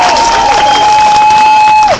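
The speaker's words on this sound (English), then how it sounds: "let's give a round of applause to our sisters," Crowd applause and cheering at an outdoor women's rights march, loud and continuous for about two seconds, with a sustained whistle-like tone over the clapping before it cuts off.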